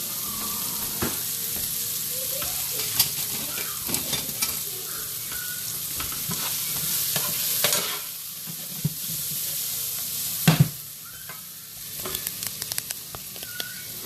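Black pepper frying in hot olive oil while meatballs and marinara are being made, a steady close sizzle and hiss with scattered clicks and stirring scrapes, running on without any talking.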